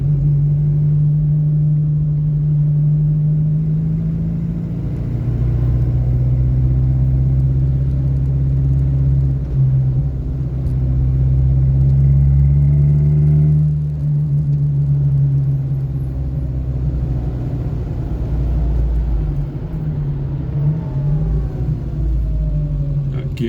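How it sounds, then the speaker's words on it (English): An old car on a road test gives a continuous low engine drone with gearbox whine rising and falling as it drives, heard up close from inside while someone talks over it. "Gearbox is just a wonderful noise"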